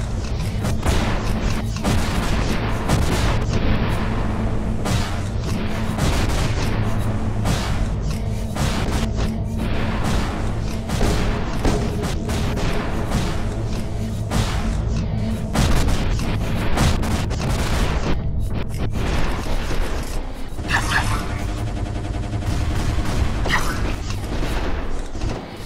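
Sustained rapid gunfire and heavy booming blasts from the VR shooter Run of Mydan, dense and continuous throughout, with a brief mechanical whir near the end.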